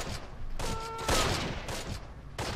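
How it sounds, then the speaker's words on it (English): German guns firing in the Close Combat video game, a distant rattle of overlapping gunfire bursts under a steady noisy battle backdrop, with no talking. "you can hear the German guns firing"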